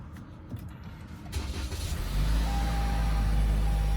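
A 2019 Toyota Camry engine cranks and catches, then settles into a steady low idle rumble, close by, with a faint whine on top.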